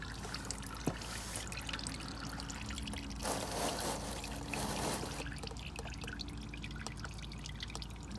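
Used engine oil drains from the oil filter housing of a 2009 Mitsubishi Lancer GTS 2.4L during an oil change, a steady close trickle and pour that swells in the middle, with a few drips and no talking.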